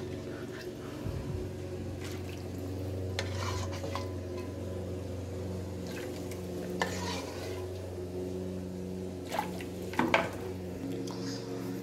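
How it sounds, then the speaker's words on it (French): Homemade poultry broth is strained through a chinois sieve, with soft stirring, liquid sloshing and occasional metallic clinks of a pot and utensils over a steady low kitchen hum. "vous allez passer le bouillon dans un chinois ou une passoire"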